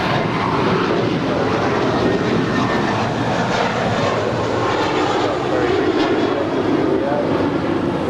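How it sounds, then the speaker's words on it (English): A 13-year-old American Airlines Airbus A321 departing Los Angeles airport, a loud continuous jet engine roar that stays steady and close throughout. "It's a 13-year-old Airbus A321."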